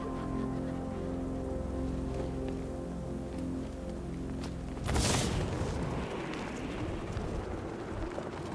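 Steady rain falls in the Batman Arkham Knight video game, a continuous wash under a low humming drone, joined midway by a heavier burst and denser downpour.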